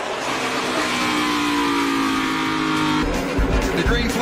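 NASCAR race cars roar close by in a tight drag race to the checkered flag, engines revving hard and steady before a burst of rougher, louder noise near the end, with a commentator's voice running over it.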